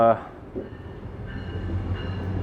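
A train rumbles past a boat-building site, a low steady roar that builds gradually over the whole stretch after a brief tonal burst at the start.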